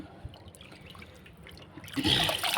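Water left over from washing rice is poured onto garden plants as a nitrogen-rich feed: a faint trickle and drips at first, then a louder gush of pouring and splashing near the end.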